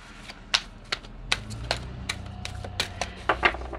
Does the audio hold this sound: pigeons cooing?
no